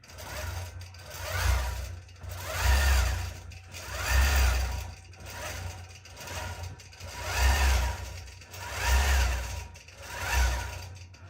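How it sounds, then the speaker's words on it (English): Computerized sewing machine stitching rows of scales on a mermaid tail pattern, a steady rapid needle clatter that swells and eases in regular cycles of about one and a half seconds, close and alone without voices. "I'm going to let it finish stitching the last 2 rows of the scales"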